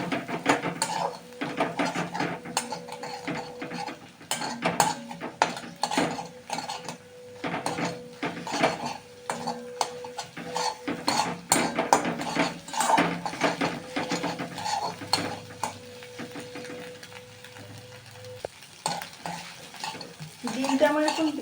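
Beaten egg being stirred and scrambled in a pan, with a spatula scraping and clinking against the metal in quick, repeated strokes over a soft sizzle, close and continuous.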